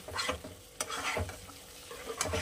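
Spice masala with mustard powder being fried for a snakehead fish curry, a soft close sizzle with a few spoon scrapes and taps against the pan.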